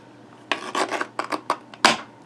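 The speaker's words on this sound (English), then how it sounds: "I'm going to bring that trimmer in again" A paper trimmer slices through cardstock in several short rasping strokes with brief pauses between them, ending in one sharper, louder cut, close up and alone.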